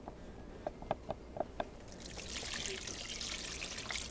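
Liquid is poured into a pan of smothered chicken, with a few soft drips at first and then a steady trickling splash that keeps running and stays fairly quiet.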